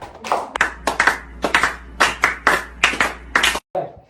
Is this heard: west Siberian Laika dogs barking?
no